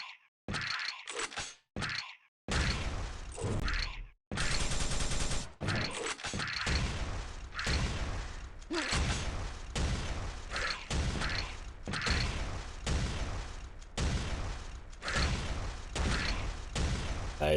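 Rocket launcher fire in Quake 3 DeFRaG plays as a quick run of sharp blasts and mechanical clanks, close and loud, in a steady rapid rhythm.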